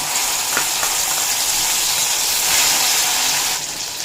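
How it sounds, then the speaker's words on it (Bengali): Onion, garlic and chili paste sizzles hard in hot oil for a kakrol dish, a loud, close, continuous frying hiss with a couple of soft stirring knocks and no voices. "যে মশলাটা আমি পেস্ট করে রেখেছিলাম সেই মশলাটা দিয়ে দেব পেঁয়াজ রসুন লঙ্কার"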